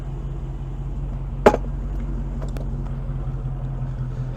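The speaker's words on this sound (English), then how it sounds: "Really nice rumble coming from the exhaust." Idling engine of a 2022 Dodge Charger SRT Scat Pack Widebody, a low steady exhaust rumble heard from outside the car, with one sharp click partway through.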